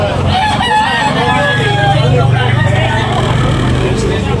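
A rooster crows at a backyard chicken market in Tabunok, Talisay, Cebu, its drawn-out call rising over a steady hum of crowd noise and nearby clucking fowl.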